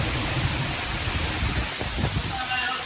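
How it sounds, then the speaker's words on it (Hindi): Heavy rain pours down in strong wind, a steady dense hiss filling the whole clip at close range, with faint voices mixed in underneath. "बहुत बड़ा बारिश हो रहा है गाइस, बारिश हो रहा है।"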